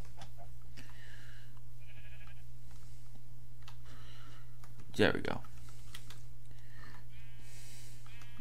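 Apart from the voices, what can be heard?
bighorn sheep bleating in video game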